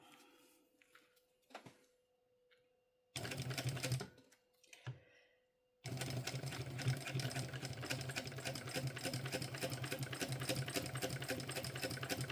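Sewing machine stitching a mini backpack, starting with a couple of short bursts and a few clicks, then running steadily and loudly for several seconds, close by.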